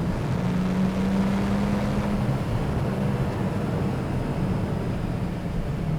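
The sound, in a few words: Porsche 911 Turbo 997.2 engine after downshift to third gear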